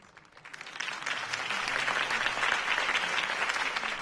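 A crowd breaks into applause after a campaign speech in a Batman-themed production, the clapping swelling within the first second and continuing as a dense, steady roar of many hands.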